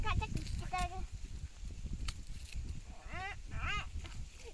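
Goats bleat among people chatting outdoors in the Indus mountains near Jamshoro, Sindh, Pakistan, with a few wavering calls early and two more later, mid-distance and partly under the conversation.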